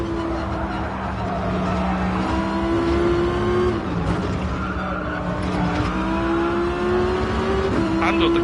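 Race car engine held at full throttle in Gran Turismo Sport, a steady loud drone with shifting pitch and brief dips as revs change, with tire squeal mixed in and a voice talking over it.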